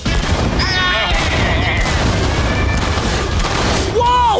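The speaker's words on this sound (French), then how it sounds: "Ils n'ont jamais envoyé autant de boulets de canon d'un coup!" Cartoon cannons firing a rapid volley of cannonballs, a dense string of booms and blasts with whooshing whistles over a busy animated soundtrack, close and loud.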